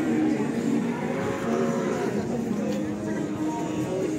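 Beef cattle and young feeder cattle low steadily at a busy livestock market in Tuban, with loud, sustained moos under the murmur of traders and crowd chatter.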